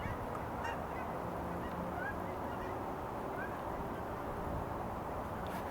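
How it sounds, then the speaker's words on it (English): Canada geese honking as they fly over a garden, a scattered series of nasal honks carried above a steady outdoor background hiss, fairly distant and with no one talking. "that was some geese flying by, Canadian geese, probably going back north again."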